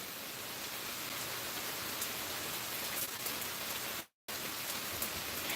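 Steady rain pours down outdoors on a residential street, a dense even hiss of drops with no voices, briefly cutting out near the end before resuming.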